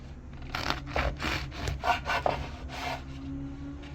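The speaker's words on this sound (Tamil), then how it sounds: "இந்த பகெட் எப்போவுமே இந்த மாதிரி கிராஸ் வைஸில் தான் கட் பண்ணணும்" A knife saws crosswise through a crusty baguette in a kitchen: about seven quick, rasping back-and-forth strokes over a few seconds, close and fairly soft, with no talking.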